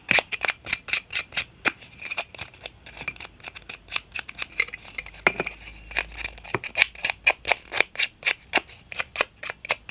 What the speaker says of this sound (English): You can do it with scissors.